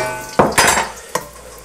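Garlic dropped into a greased wok for a Japanese squid salad, giving a few sharp sizzling bursts with utensil scrapes, close and fairly loud, fading between hits; no talking.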